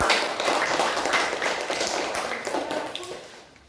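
Schoolchildren in a classroom clap for the fourth student group, a dense, close patter of many hands that holds steady and then thins out toward the end, with faint voices underneath.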